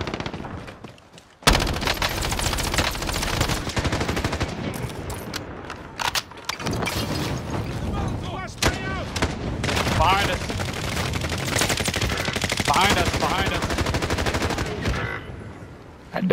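Sustained gunfire in Call of Duty: Modern Warfare, loud rapid automatic bursts and overlapping shots erupting after a brief quiet start and continuing almost without pause, with voices talking at times underneath.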